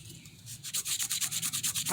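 Rhythmic back-and-forth sanding of an old metal knife blade in one direction, a quiet rub that turns into regular scraping strokes, close by and alone.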